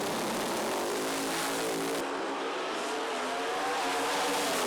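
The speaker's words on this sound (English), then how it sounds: "great side-by-side drag race" Drag racing cars run side by side down the strip, a loud continuous engine roar that shifts partway through, heard at a distance without voices.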